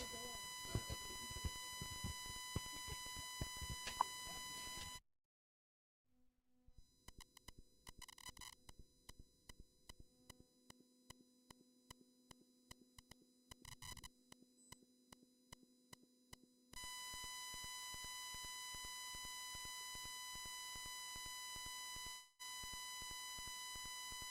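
A forgotten phone in a conference hall beeps in a steady run of short, faint electronic tones, quiet and fairly distant.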